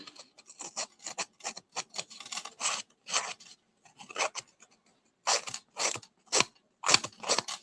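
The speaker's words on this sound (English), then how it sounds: "I'm doing it with my scissors" Repeated crisp snips and crunchy cuts through paper, close up, in irregular bursts with brief pauses between them and no voices.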